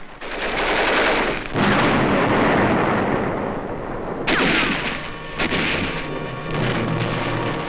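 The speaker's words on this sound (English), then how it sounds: "Marines attack enemy posts directly beneath them with bullets, hand grenades, and charges of explosives" Intense close gunfire and grenade blasts crash through a World War II jungle battle between US Marines and Japanese troops on a ridge, with sustained loud bursts of rapid shots, booming explosions and brief lulls between volleys.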